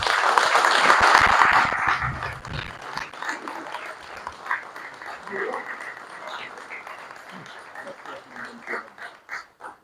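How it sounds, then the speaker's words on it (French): Press conference attendees burst into loud clapping that fades after two seconds, leaving scattered claps under a voice that keeps talking. "je souhaite vraiment, vivement, beaucoup plus d'applaudissements encore pour lui"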